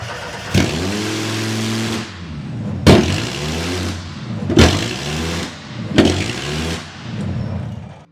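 A Volkswagen 5-cylinder engine in a pro drift car revs hard four times, each sharp blip rising then falling back to a rough idle, loud and close with no talk.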